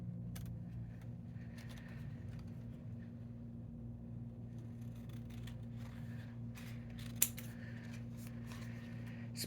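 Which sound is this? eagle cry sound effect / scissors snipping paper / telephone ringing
scissors snipping paper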